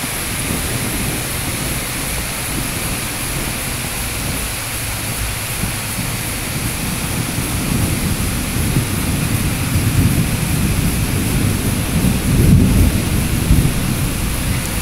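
Steady heavy rain pours down during a thunderstorm in Van Cortlandt, the Bronx, New York City, while low rolling thunder rumbles and builds, growing louder toward the end.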